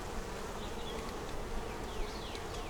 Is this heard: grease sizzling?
no